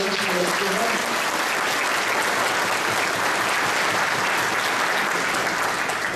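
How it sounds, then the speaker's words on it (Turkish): Strong, sustained applause from a crowd at a political party congress in a hall, steady and loud throughout with no break, many hands clapping together at close range. "Şöyle kuvvetli bir alkış hep beraber"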